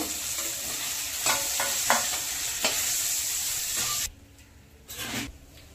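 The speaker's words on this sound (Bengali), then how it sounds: "মাছটা ভালো করে ভেজে নিয়েছি, এভাবে লাল লাল করে ভেজে" Fish frying in hot oil until reddish, with a steady crackling sizzle and occasional scraping clinks of a spatula against the pan, close and fairly loud. The sizzle drops off sharply near the end, then briefly flares again.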